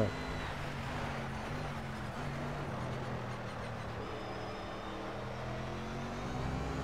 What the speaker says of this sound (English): You can hear the power in the engine of this car.